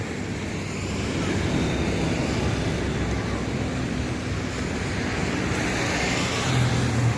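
A Mercedes-Benz OF 1623 front-engine bus with an SR3 Neo body, run by PO Sumber Alam, gives a steady, loud, broadband engine and road rumble that holds evenly through the whole stretch with no voices.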